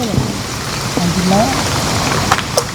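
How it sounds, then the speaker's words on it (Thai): Rain falling at a riverside fishing spot in Thailand, a steady hiss of drops on surfaces with occasional brief voices and small knocks over it. "ฝนมาแล้ว ฝนตกแล้ว ฝนตกแล้ว"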